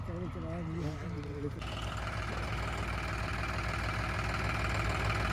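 John Deere 5055 tractor with an engine modified to an inline pump, running with a steady, loud, dense rumble that takes over after someone speaks briefly at the start.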